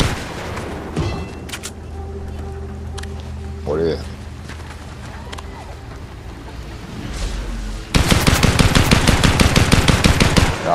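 Bursts of gunfire from the video game Fortnite: sparse scattered shots and background game sounds, then a loud, rapid sustained volley of automatic fire in the final few seconds.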